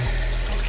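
Lukewarm tap water pours steadily into a pot for soaking yarn, a loud continuous rushing splash with no pauses.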